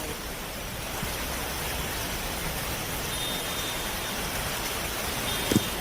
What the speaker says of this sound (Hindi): जबकि फरीदाबाद में भी लगातार बारिश हो रही है।